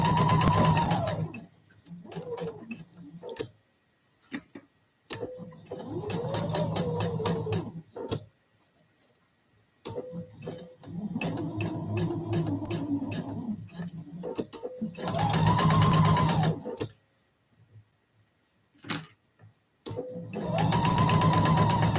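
A sewing machine stitches a quilt block seam, its motor whirring in steady bursts of several seconds each, separated by quiet pauses, close and clear, with a few brief spoken words between runs.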